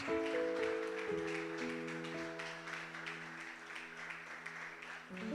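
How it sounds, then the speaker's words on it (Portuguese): Moderately faint clapping from a church congregation at a family talk, continuous and even beneath sustained organ or keyboard tones throughout. "Aplauda bem forte esse Deus."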